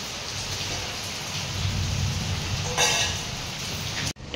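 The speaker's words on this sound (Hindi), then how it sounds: "मध्य केते वर्षा होइछि।" Steady rain falls heavily and continuously, a dense hiss of drops on surfaces with a brief louder burst partway through, ending with a sudden cut.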